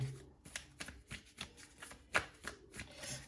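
Cards being shuffled in a series of quick riffling bursts, fairly quiet and close, with no talking.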